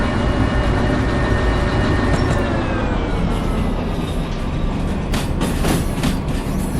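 A train in the Derail Valley video game rolls along the track with a steady, loud, continuous rumble and rattle, faint tonal whines drifting through, and a few brief clanks near the end.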